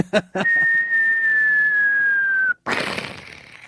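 A single long, steady whistled tone held for about two seconds, slowly falling in pitch, preceded by short clicks and followed by a burst of noise.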